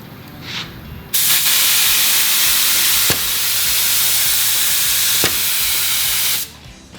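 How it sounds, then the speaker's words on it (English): A loud, steady spray of Insta-Grip from a spray gun above 50 psi hisses continuously for about five seconds, with a couple of brief clicks partway through, then cuts off abruptly. "I'm going to adjust the product pressure up well above 50 psi so we can see that spray."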